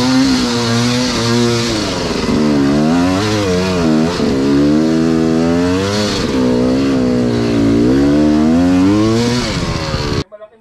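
An MPX MT250 motorcycle engine revs steadily up and down for about ten seconds, close and loud, then cuts off abruptly near the end.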